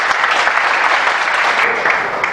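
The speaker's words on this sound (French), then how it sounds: "je demande à tous les hommes de les honorer par les applaudissements" A hall audience applauds steadily in honour of the women present during a youth event, a dense, even wash of many hands clapping at close range, with no break for about two seconds.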